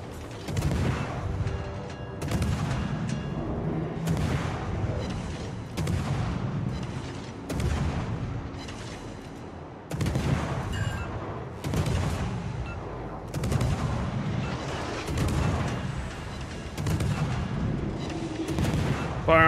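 Naval guns booming during a clan battle in a warship video game, heavy salvos landing roughly every couple of seconds in a steady rhythm, loud and close, with faint voices now and then.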